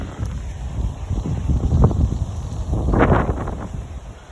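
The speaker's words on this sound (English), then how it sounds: "It's windy out here today." Gusty wind buffets the microphone in uneven low rumbling bursts, swelling and easing, with a faint high hiss in the background.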